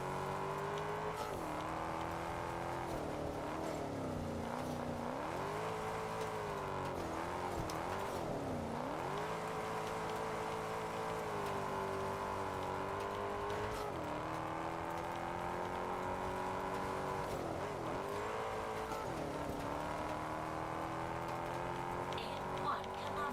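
A car engine drones steadily in Test Drive Unlimited Solar Crown, with revs rising and falling through gear changes over continuous road noise, under occasional talk.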